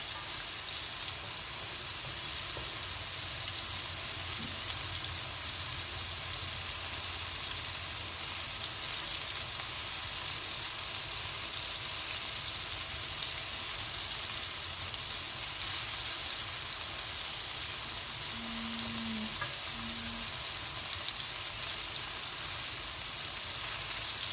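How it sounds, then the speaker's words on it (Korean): Steady, dense sizzling and crackling of shrimp deep frying in hot oil, continuous and close, with a faint low hum underneath. "색깔이 앞뒤로 두 번씩 튀길 거예요."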